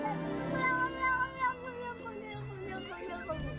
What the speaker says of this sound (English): Wow, that's just a classic cat sound there.